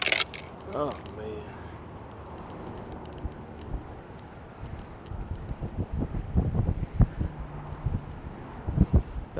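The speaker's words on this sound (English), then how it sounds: "It is super windy." Blustery wind buffets the microphone in loud, uneven gusts while fishing on open water, growing rougher toward the end, with a brief voice early on.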